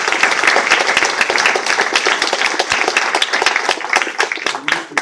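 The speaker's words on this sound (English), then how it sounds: "I think they all deserve a round of applause for their answers" A roomful of people applauding candidates at a congressional field debate, steady clapping that tapers slightly toward the end.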